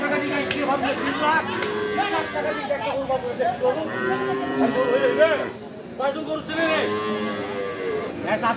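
Cows moo repeatedly at a rainy, muddy rural cattle market, long drawn-out lowing calls close by, with people talking loudly around them and the crowd's chatter continuing throughout.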